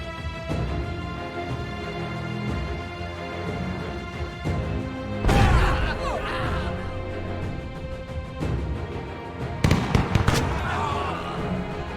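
Suppressive gunfire in the strategy game We. The Revolution: scattered popping shots and two louder crackling volleys of musket-like fire, one near the middle and one toward the end, over a steady background of game music.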